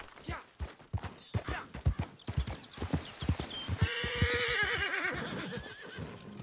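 Horse hooves clip-clop in Red Dead Online, a quick rhythmic patter under whinnies and other game sounds, with the horse neighing loudly toward the end.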